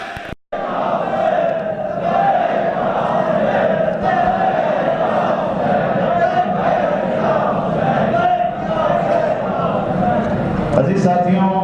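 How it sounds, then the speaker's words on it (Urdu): Large gathering answering a religious-political slogan with the chant "Labbaik ya Hussain" at a Majlis e Wahdat e Muslimeen event; a dense, loud, sustained roar of many voices in unison, filling the space after a brief pause at the start. "میں نعرہ لگاؤں گا، نعرے کا جواب دینا ہے لبیک یا حسین"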